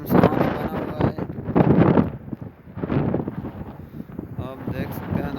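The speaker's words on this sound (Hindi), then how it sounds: "बिल्कुल धूल है यहाँ पे, तेज हवा चल रही है" Strong wind blows across a dusty outdoor spot, buffeting the microphone in loud gusty surges that swell and ease throughout, with someone speaking intermittently over it.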